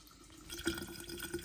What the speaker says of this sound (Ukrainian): наливаємо стільки води, щоб нас ще в кінці помістились наші дріжджі